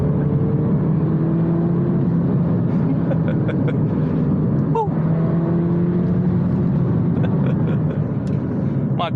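Interior engine drone of a MINI Cooper S (R56, N18) on a country lane, a steady continuous hum with a brief shift near the middle as it drops to third gear, engine note carrying on evenly throughout.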